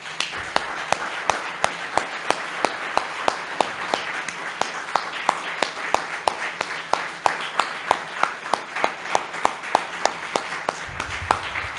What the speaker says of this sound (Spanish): Vamos a darle un aplauso fuerte a Hashem